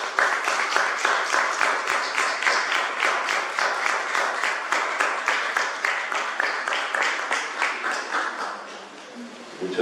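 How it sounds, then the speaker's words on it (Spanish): A lecture audience at UNAM, gathered for a talk by Javier Sicilia, claps in steady, dense applause that carries for most of the stretch before tapering off near the end. "Les pido un aplauso para Javier Cicero"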